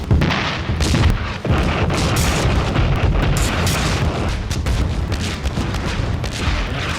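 Artillery shells fall and explode in a continuous barrage of deep booms and blasts from a war battle, layered and rumbling for several seconds with no talking.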